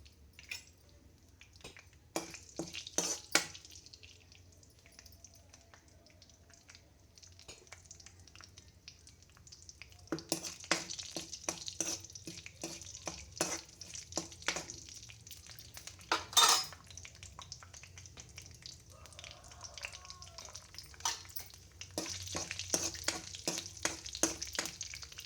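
Chana dal, mustard seeds and cumin frying in oil for upma, faint sizzling with bursts of crackling pops and occasional pan clatter spread across a long, quiet stretch.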